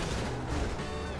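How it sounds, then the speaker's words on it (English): Gunfire in the video game GTA 5, a dense, booming burst of loud shots that blur together into one continuous blast. "He's shooting."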